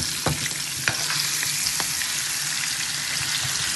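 Rohu fish frying in hot oil, a steady loud sizzle with a few sharp pops and spatters, continuous and close with no talking.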